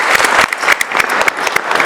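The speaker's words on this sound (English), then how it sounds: "So one round of applause for all of you for being such amazing audience." An audience at a live podcast event applauds, giving dense, close clapping that continues steadily for the whole short stretch.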